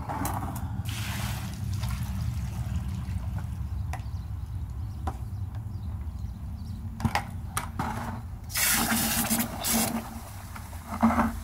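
Water and wet pool filter sand spilling and splashing out of a container after stirring, irregular bursts of pouring and sloshing with intermittent drips and knocks, close and fairly quiet.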